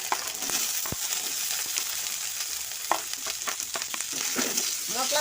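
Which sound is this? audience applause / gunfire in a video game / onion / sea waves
onion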